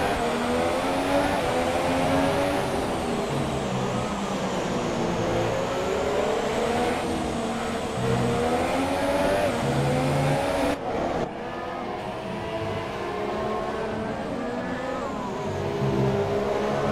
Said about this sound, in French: Le DRS pour la voiture de Kevin Magnussen.